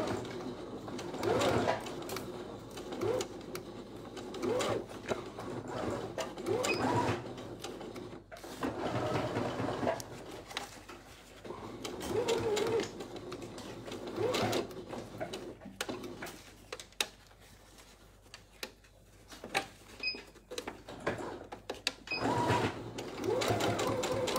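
Sewing machine stitching bias binding along the edge of an apron, running in several bursts with pauses between them, close and fairly steady while fabric is fed under the presser foot.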